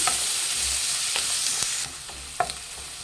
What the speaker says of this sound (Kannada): ಫ್ರೆಂಡ್ಸ್ ನೋಡಿ ಈರುಳ್ಳಿ ಚೆನ್ನಾಗಿ ಫ್ರೈ ಆಗಿದೆ